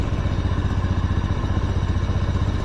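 A Honda Scoopy PGM-Fi ESP scooter, fitted with a replacement K25 Beat Fi coil, idles steadily nearby with a rough, even chugging pulse and light mechanical clatter throughout.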